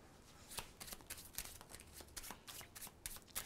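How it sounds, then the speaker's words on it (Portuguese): A deck of playing cards being shuffled during a card trick, heard up close as a quiet run of riffling, flicking bursts with no one speaking. "Eu vou misturar a sua carta aqui no baralho."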